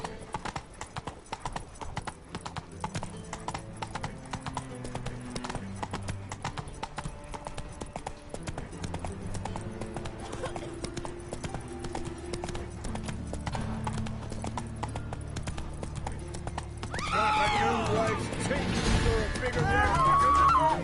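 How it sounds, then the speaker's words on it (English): Horse hooves clip-clop steadily at a trot in The Witcher 3 video game, close and rhythmic throughout, with game music and voices underneath and a brief whinny near the end. "Whoa there, Roach."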